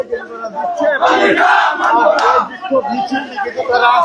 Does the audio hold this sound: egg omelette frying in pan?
no